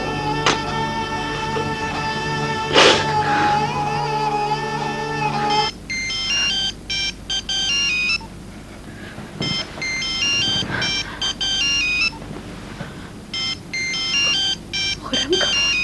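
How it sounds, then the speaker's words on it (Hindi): A telephone rings in an electronic ringtone pattern of repeated high beeping bursts, heard in a domestic drama scene after a short spoken line and some music, the rings continuing in steady phrases to the end. "खुर्रम का फोन।"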